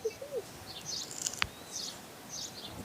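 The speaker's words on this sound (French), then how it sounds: "Elle regarde tous les oiseaux qui sont là." Small birds chirp and tweet outdoors in short, high, scattered calls, fairly faint over a hissy background, with one sharper click-like sound near the middle.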